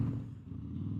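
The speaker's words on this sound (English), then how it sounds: "Let y'all enjoy some of the highway." Steady low rumble of a car cruising on a highway, with even road and engine drone heard from inside the vehicle and no talking.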